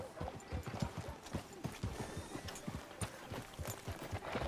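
Horse hooves clip-clop in Red Dead Redemption 2, a steady, close, rhythmic series of hoof strikes with a faint mechanical clink in the background.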